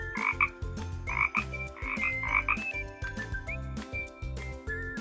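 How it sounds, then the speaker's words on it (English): A frog croaks repeatedly in short raspy bursts, grouped in pairs and spread across the whole stretch over a steady, softly thumping background beat. "Frog,"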